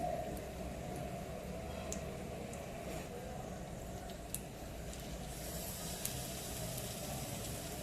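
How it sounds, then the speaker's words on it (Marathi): Marinated fish pieces frying in hot oil on a tawa, a quiet, steady crackling sizzle with a few faint ticks, under a low background hum. "तुकडी टाकल्यानंतर असा चर आवाज आला पाहिजे, म्हणजे तेल व्यवस्थित तापलेलं आहे"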